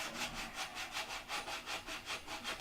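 Rhythmic back-and-forth sanding strokes scrape steadily across the inside of a Sig Magnum model airplane cowl, close and even, with no talking.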